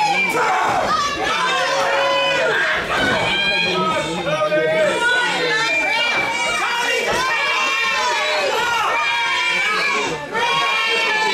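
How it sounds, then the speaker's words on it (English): A wrestling arena crowd taunts a wrestler in loud, continuous jeering and chanting: many voices shout and sing-song together, dense and unbroken throughout. "The crowd taunts the Razorback with the name of Randy."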